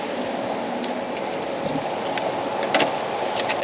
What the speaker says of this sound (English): We got some thunder rolling in.